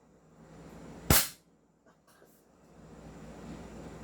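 An Umarex Glock 17 airsoft pistol fires a single sharp, loud crack that decays quickly, followed by faint mechanical clicks against quiet background noise.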